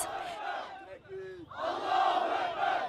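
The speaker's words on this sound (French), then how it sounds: "Des sifflets et des acclamations pour un visage, celui de la fierté pour les partisans du président." Crowd of presidential supporters celebrating in Taksim Square, Istanbul, after a failed coup attempt, whistling and cheering in loud, sustained bursts, with a brief lull and a single shrill whistle before the noise swells again.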